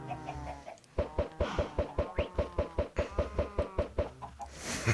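Chickens in Minecraft, a rapid run of about fifteen evenly spaced clucks or knocks, close and fairly loud, with faint sound before and after the run.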